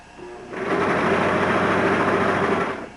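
A home sewing machine stitches in one continuous run of about two seconds, a close, loud, even motor whirr with rapid needle chatter that starts up and winds down, with no talk during the run.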